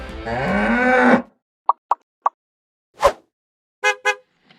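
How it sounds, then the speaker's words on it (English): A cow on the road in Georgia lets out one long, loud moo up close, followed by a few short knocks and two brief honking tones. "cows on the road"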